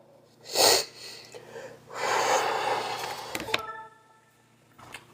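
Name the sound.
nose blowing while sick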